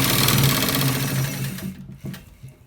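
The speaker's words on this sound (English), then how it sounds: "Let's stitch it fast so that we get to the next part" A sewing machine stitches a double neck collar at speed, whirring loud and close before slowing and stopping, followed by a few small clicks and handling noises.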